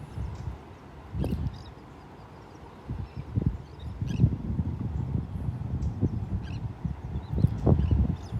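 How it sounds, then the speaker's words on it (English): Gulls and terns call from little spits of land along a beach, with scattered calls over low, steady surf and wind noise. "Gulls and terns."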